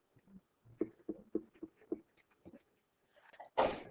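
One sharp, loud sneeze bursts out near the end of a classroom trigonometry lesson, after a stretch of faint, scattered murmuring and small rustling sounds.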